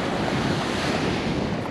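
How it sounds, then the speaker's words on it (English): Ocean surf rolling onto a beach in Israel, a steady broadband wash of small breaking waves mixed with gusty wind noise on the microphone, loud and continuous with no speech. "There's waves."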